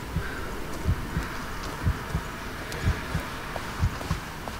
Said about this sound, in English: Oh my god, why have I got heartbeat noise?